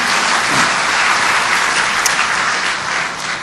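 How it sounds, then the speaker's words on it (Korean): A dense, sustained round of audience applause fills a Korean lecture hall at a political commemoration event, loud and even throughout with no voices. "여러분 박수 부탁드리겠습니다"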